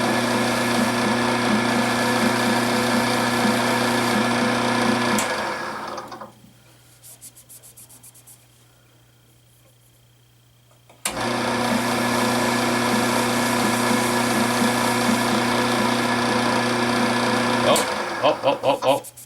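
A lathe spins a pen with a CA finish as it is sanded, a loud steady motor whine that stops for a few seconds and then starts up again.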